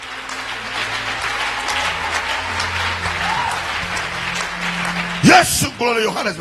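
A church congregation applauding: steady, dense clapping fills the first five seconds at moderate loudness, then gives way to a voice speaking.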